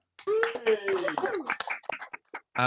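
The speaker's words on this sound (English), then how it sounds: "can you round of applause for your judge" A live comedy-festival audience in Leicester claps for the judge, a quick burst of hand claps mixed with cheering and overlapping voices, loud and close before it breaks off into scattered claps.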